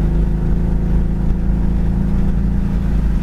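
A Mustang's six-cylinder engine with headers and dual exhaust drones loudly and steadily while cruising down the road, its throbbing exhaust note unbroken and close for the whole stretch.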